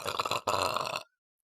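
A loud, close burp produced on command, two drawn-out croaking pulses in quick succession lasting about a second, then silence.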